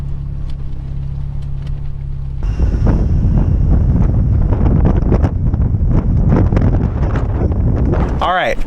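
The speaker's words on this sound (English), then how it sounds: "It's windy." Strong outdoor wind buffeting the microphone on a truck trail during off-road testing of a Toyota Tacoma on 35-inch tires, a roaring low rumble that swells and stays loud throughout while a voice talks over it.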